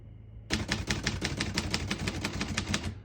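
Rapid, steady keystrokes on a 1948 Royal Quiet De Luxe portable typewriter, a quick run of close, crisp mechanical clacks that begins suddenly after a brief quiet hum and continues evenly with no talking.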